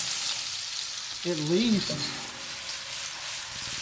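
Mushrooms frying in a pan for a chicken and sherry cream sauce give off a steady, close crackling sizzle throughout, with a brief spoken phrase over it partway through.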